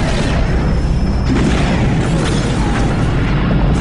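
A multi-beam frigate explodes in the space strategy game Homeworld Cataclysm, a loud, dense boom and rumble that fills the whole moment with no voices over it.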